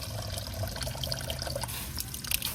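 Coolant drains from motorcycle radiator hoses in a steady close trickle with faint drips, running continuously without any speech.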